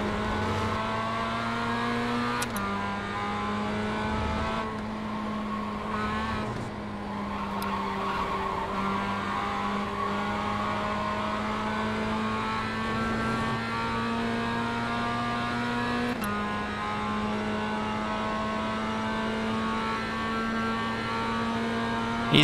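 Steady droning engine note of a Mazda MX-5 Cup race car in the iRacing sim, holding pitch with small shifts and occasional tire squeal, continuous for the whole stretch.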